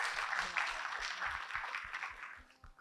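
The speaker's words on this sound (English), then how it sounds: "Give them a round of applause." Applause from the audience at a regional university quiz event, a moderate burst of clapping that fades toward the end, heard from some distance in a hall.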